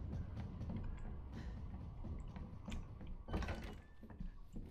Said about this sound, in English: I didn't mean to push that door open